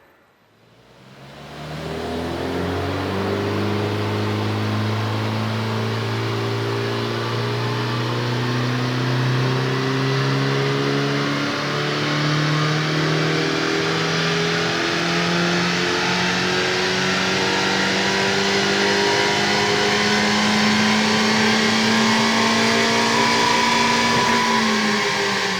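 A Honda Civic FL5 fitted with a Ramair Pro Ram induction intake kit revs up and holds a long, loud, steadily climbing engine drone that rises slowly in pitch and continues without pause.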